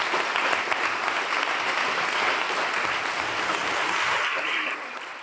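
Loud, sustained applause from a lecture audience, a thick, even roar of many clapping hands that holds for several seconds before easing slightly at the end.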